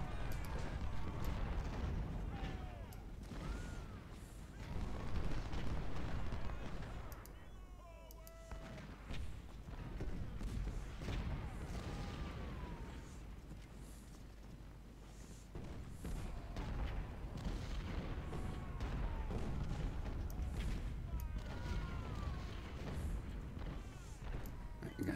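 Artillery fire in a Confederate Civil War video game battle at Saunders Farm, with repeated dull booms and gunfire rumbling steadily through the scene while voices shout orders over it.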